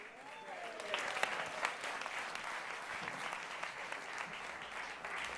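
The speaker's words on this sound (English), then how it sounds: "can we have another round of applause for Gina?" An audience at a Digitas NewFront presentation applauds to welcome a speaker, continuous clapping from a sizable crowd at moderate-to-low loudness, holding steady throughout with a few brief voice fragments near the beginning.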